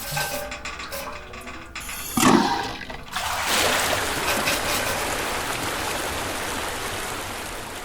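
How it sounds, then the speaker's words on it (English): Water gushes out after a valve is opened in the video game Junkworld, beginning as a short burst and then settling into a steady, loud rushing flow that carries on to the end with no voices. "you find this valve which opens the water"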